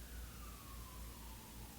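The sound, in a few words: emergency siren outside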